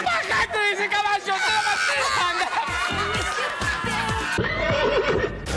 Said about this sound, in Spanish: ¡Bajate de ese caballo!